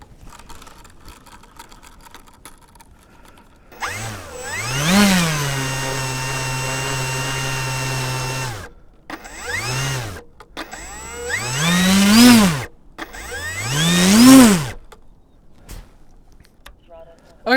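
A frozen motor on a Durably Excalibur V2 struggles to run, giving three loud, separate bursts of whining electric motor noise that rise and fall in pitch. A steady hum holds between the first burst's ramps, and short quiet gaps separate the bursts.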